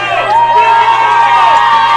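A Bulldog home crowd at an Edison vs Turlock high school football playoff game cheers and whoops loudly in a brief, dense burst, with a voice speaking over it.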